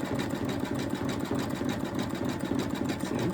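A Brother embroidery machine sews satin stitches on an Easter bunny appliqué, its hoop rubbing as it swings back and forth. The result is a continuous, fairly quiet rhythmic mechanical chatter with a steady pulsing beat throughout.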